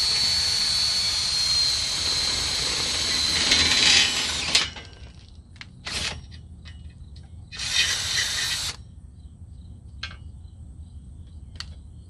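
A power drill whines loudly for several seconds boring a 1/4-inch hole through a metal greenhouse hoop, then cuts off, followed by a couple of short bursts and a few sharp clicks.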